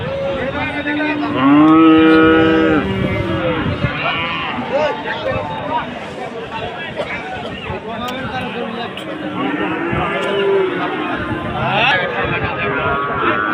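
Cattle, including local native-breed cattle, moo loudly and repeatedly amid a busy crowd, with people talking and calling out throughout a noisy outdoor border cattle market.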